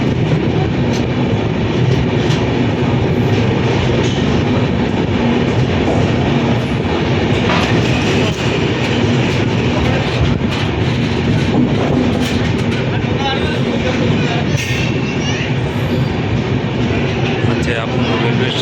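Train standing at the Abu Road railway station platform, a steady loud rumble and clatter of rail cars running continuously with station bustle and voices mixed underneath.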